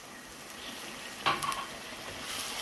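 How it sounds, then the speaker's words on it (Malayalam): Milk is poured into a hot pan of dosa masala, giving a brief sharp sizzle and stir scrape before the pan settles to a steady, moderate frying hiss. "ഞാനിപ്പം ഈ പാല് ചേർക്കാൻ പോവാണ്"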